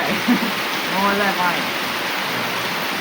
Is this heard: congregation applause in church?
no